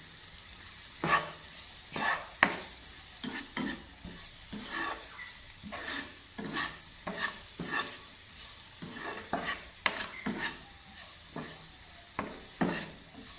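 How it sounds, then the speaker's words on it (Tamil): Onions sautéing with salt in a pan for a Tamil egg curry, a steady sizzle broken by repeated sharp scraping stirs at an irregular rhythm, close and alone with no voices. "வெங்காயம் வதக்கும் போது கொஞ்சமாக உப்பு சேர்த்துக்கொள்ளுங்க."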